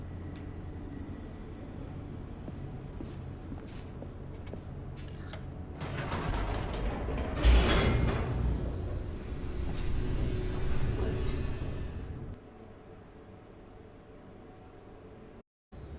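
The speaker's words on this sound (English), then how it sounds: "The elevator raced downward, plummeting towards an unknown fate." Elevator descending in The Stanley Parable, a steady mechanical rumble that swells into a louder grinding, creaking rush midway, then drops back to a quieter hum before a brief cutoff.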